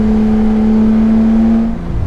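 A Porsche 911 GT3 RS with its 4-liter engine holds a loud, steady rev close by, a deep sustained engine note that drops off near the end.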